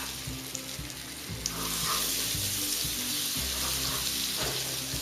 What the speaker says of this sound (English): Now I'm going to add in my butter. It is going to froth up really well.